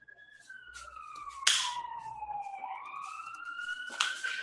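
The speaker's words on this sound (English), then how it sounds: "Were those the warning sirens?" Warning sirens wail outdoors, their pitch sliding down and then back up in a long, wavering sweep, moderately loud with a couple of sharp bursts of noise over the top.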